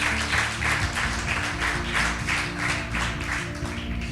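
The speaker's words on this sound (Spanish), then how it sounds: "le damos un aplauso" A church congregation breaks into applause during a sermon, a sustained rhythmic clapping in pulsing waves, with a low musical drone underneath.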